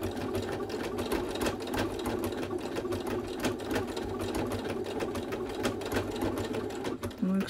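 A sewing machine stitches fabric for a two-sided doll dress on a short, slow stitch, running as a steady close rapid needle clatter with someone talking over it.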